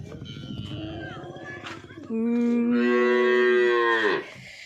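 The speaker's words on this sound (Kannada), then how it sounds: "ಎಷ್ಟು ಚಂದ ಇದ್ದಾವೆ ಹಸುಗಳು ಕರು." Cows and a calf mooing at a farm, a rough low bellow followed by a long, loud, sustained moo close by, with no talking.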